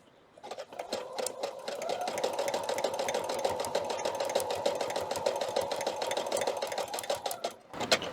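A sewing machine stitching a hooded towel runs in a fast, even whir with a rapid needle patter, starting after a brief pause and stopping with a short halt near the end, close and moderately loud.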